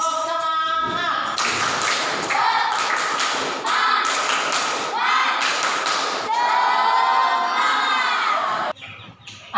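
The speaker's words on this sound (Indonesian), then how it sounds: "Oke, kita tepuk semangat ya." Schoolchildren in a classroom perform the tepuk semangat spirit chant, rhythmic group claps and thumps alternating with loud shouted chanting voices throughout, ending with a brief pause.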